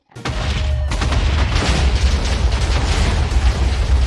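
Minecraft TNT blasts tearing through terrain, a sudden loud boom followed by a continuous roaring wash of overlapping explosions that stays dense and near throughout.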